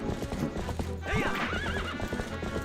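Horse hooves clip-clop at a steady gallop in The Legend of Zelda: Twilight Princess, and a loud whinny rises over the running hoofbeats partway through.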